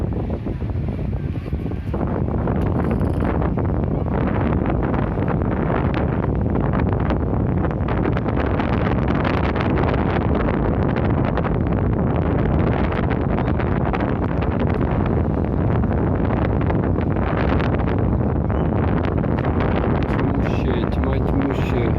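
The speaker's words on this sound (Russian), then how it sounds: "Ветер дует еще" Strong wind on the Yeysk seafront roars steadily across the microphone throughout, a constant loud rushing buffet with no letup.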